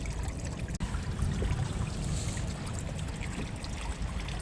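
Water draining from a front loader washing machine into a back tank, a steady dense rushing and gurgling flow heard close and continuous throughout, without talk.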